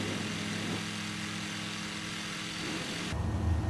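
Icon A5 light aircraft engine in Microsoft Flight Simulator, a continuous whirring drone that holds steady, then deepens and swells louder near the end as power rises, with no voices.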